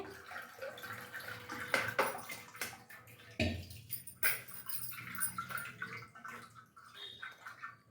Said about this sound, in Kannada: ಇನ್ನೊಂದು ಸಲ ಮಿಕ್ಸಿ ಮಾಡಿ ರಾಗಿ ಮತ್ತೆ ಸೋಸ್ತಾ ಇದ್ದೀನಿ